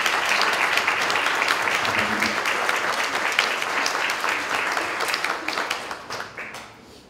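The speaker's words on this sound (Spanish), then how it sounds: "quisiera reconocer a esos estudiantes de Cosecha Voices ahora con un aplauso" Audience at a bracero history exhibition event applauds students, a sustained wash of many hands clapping that holds steady, then fades out toward the end.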